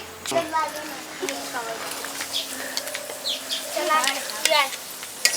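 Puffed wheat-flour luchi frying in hot oil for a Bengali breakfast, a steady crackling sizzle running continuously under a speaking voice.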